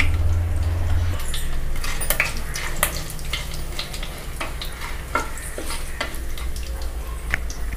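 Fenugreek and cumin seeds crackle and sizzle in hot oil for fish head curry, with a constant frying hiss broken by frequent sharp pops and a few clinks of a spoon against the pan.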